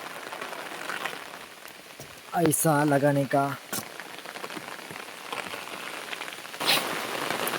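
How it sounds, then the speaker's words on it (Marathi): Heavy monsoon rain patters steadily and loudly throughout in rural Konkan countryside, with a short burst of a voice partway through. "जोरदार पाऊस येतोय"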